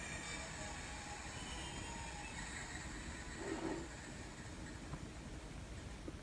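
An N scale Kato SD40-2 diesel model with a DCC sound decoder gives a faint, steady low rumble as it winds down. A brief thin squeal rises mid-way against a quiet, even background.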